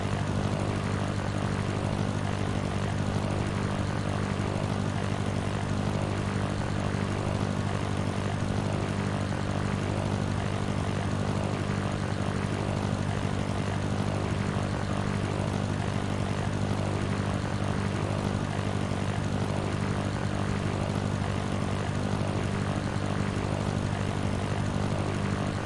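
A propeller airplane engine drones steadily and loudly while climbing after takeoff in the Sierra Pro Pilot flight simulator game, a constant hum with no pauses.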